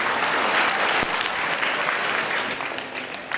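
An audience at a village fair comedy show claps steadily to welcome a performer, dense applause at full volume that tapers slightly toward the end.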